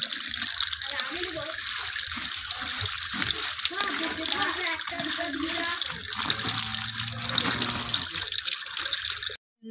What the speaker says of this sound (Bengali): ডালটা ধুয়ে ভালো করে পরিষ্কার করে নিয়েছি।